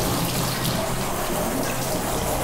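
Water runs steadily from a tap or hose, soaking a dog's coat during a bath with shampoo products, a continuous close, loud splashing hiss with no talk.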